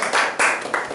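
A room of people applauding during a talk session, with a few short bursts of clapping that swell and drop in quick succession, fairly close and loud, with no talking over it.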